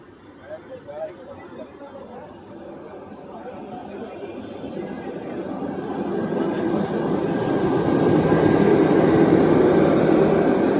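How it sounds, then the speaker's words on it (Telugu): An express train from Yesvantpur to Hindupur rumbles past on the next track, heard from inside a crowded MEMU commuter train. The roar grows steadily louder and fuller over the passengers' constant chatter. "మన పక్క ట్రాక్లో ఉన్న యశ్వంతపూర్ నుంచి హిందూపూర్ వెళ్ళే ఎక్స్ప్రెస్ అయితే వెళ్ళిపోతుంది"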